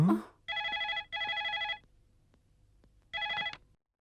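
A telephone bell rings in two long bursts back to back, then a third burst after a short pause, loud and clear over a quiet room.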